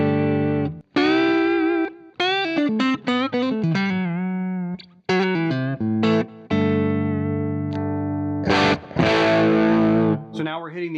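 Overdriven electric guitar played through a Pettyjohn Chime MKII preamp, loud and close, with sustained distorted chords and single-note runs in bursts separated by short pauses.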